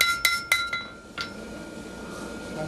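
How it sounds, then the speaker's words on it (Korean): A hand hammer strikes heated steel at a traditional forge making kitchen knives: a few sharp, ringing metallic blows in quick succession, loud and close, then fading into workshop background noise. "저마다 각기 다른 쇠의 특징을 파악해 불에 달군 후 망치질을 하는 작업자"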